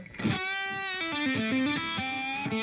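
Electric guitar through an overdrive pedal stacked in front of a distortion pedal, a picked chord followed by a short sequence of gritty, mid-heavy distorted notes, played steadily with no talking.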